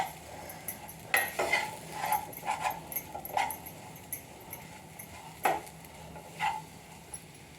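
A metal spoon stirs and scrapes gram flour roasting in a pan, making scattered clinks and taps of varying loudness over a soft background, with no talk.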